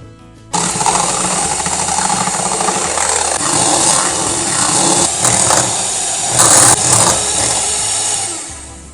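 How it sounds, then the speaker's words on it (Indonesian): Electric hand mixer whipping egg whites for a marble cake, a steady loud mechanical whir that starts abruptly after half a second and runs continuously with slight fluctuations, no talking. "Pastikan mixer yang digunakan sudah bersih ya."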